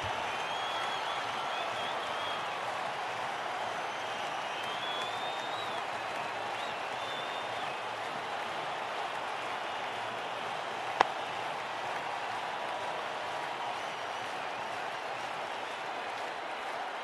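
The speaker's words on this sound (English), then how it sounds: "The crowd goes crazy." In a World Cricket Championship 3 Pakistan vs Australia match, a stadium crowd roars and applauds in a steady, distant wash that holds throughout, with a sharp click near the end.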